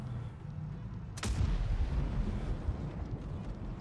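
A tank gun fires in World of Tanks Blitz, a single sharp, loud blast followed by a rumbling tail over steady low in-game background noise, with no talk.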